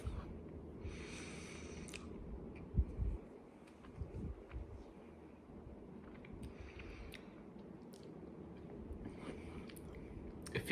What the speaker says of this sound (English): It feels like I'm just chewing on a lot of salt right now.